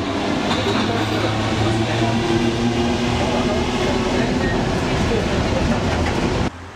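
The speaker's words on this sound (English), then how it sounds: "the trains are reasonably quiet, and some actually sound pretty sweet." A steady, loud rumble of a London or Paris metro train in motion, with a low droning hum and rattling throughout, cutting off abruptly near the end.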